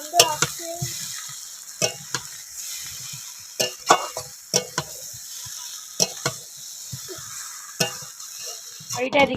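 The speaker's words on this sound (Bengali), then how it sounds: "সেদ্ধ করে রাখা আলুগুলো দিয়ে ভালো করে কষিয়ে নেব" Boiled potatoes are stir-fried with garlic paste in a pan for mixed veg rice: irregular sharp scrapes and knocks of a spatula against the pan over a faint, steady sizzle.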